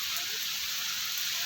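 Steady rain falling outdoors, a continuous even hiss of drops across the whole stretch, fairly loud and unbroken, with a faint voice somewhere underneath.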